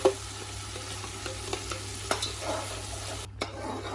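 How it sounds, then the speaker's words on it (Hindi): Tomato and onion paste fries in a pan with a steady, close sizzle, broken by a few sharp scrapes and knocks as it is stirred; no one speaks. "अब हम इसको अच्छे तरीके से थोड़ी देर के लिए भून लेंगे, टमाटर को और ये जो ये सब मिक्सचर है।"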